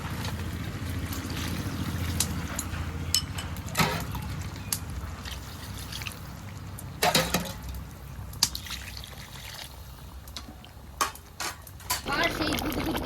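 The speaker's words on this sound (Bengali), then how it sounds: "এখন আমি জল দিয়ে দেবো।" Water poured into a pan of browned duck meat trickles and splashes fairly quietly beneath ongoing kitchen chatter, with sharp clinks of utensils scattered throughout.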